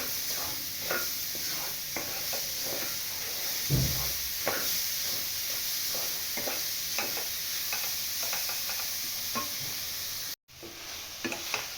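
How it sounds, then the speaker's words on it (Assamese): A spoon stirs sugar through grated coconut in a hot pan, a steady scraping and faint sizzling hiss that runs continuously for several seconds with intermittent scrapes, briefly cutting out near the end. "এতিয়া মই চেনিখিনি দি ল'লোঁ ইয়াতে। দি পেলাই অকণমান লৰাব লাগিব।"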